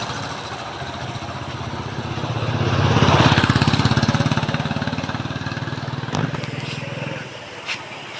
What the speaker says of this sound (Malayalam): നല്ല അടിപൊളി വണ്ടി വരുന്നുണ്ട്